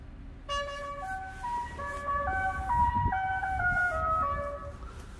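A 2021 Tesla Model Y Long Range's novelty horn plays the La Cucaracha tune as a string of clear stepped electronic tones, fairly quiet against a low background rumble.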